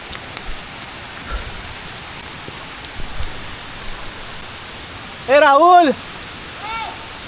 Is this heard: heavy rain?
yes